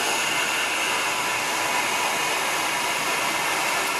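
A bench vacuum cleaner pulls air with a constant, loud whooshing hiss, an even broadband roar that holds steady throughout with no talk over it.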